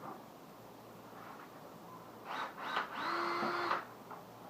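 A power drill pre-drilling holes in a wooden window-style frame for a carpet archery target, a couple of short bursts and then a steadier whine that spins down, fairly close in a quiet room.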